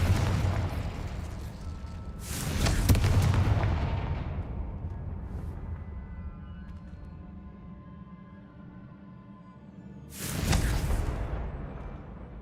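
Two heavy booming blasts from the Confringo explosive spell in Hogwarts Legacy, each with a sharp onset and a long, decaying rumble, separated by several seconds of low ambient tone.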